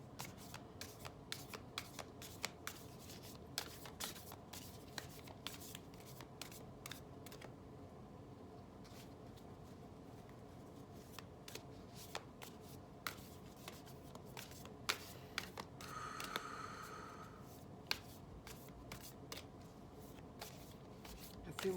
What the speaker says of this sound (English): A few more shuffles and then I'll draw from the deck